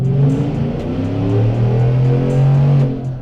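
A Whipple-supercharged 6.2L GMC Sierra Denali makes a short partial pull on a dyno: a loud, close, continuous engine roar that holds and swells with throttle for about three seconds.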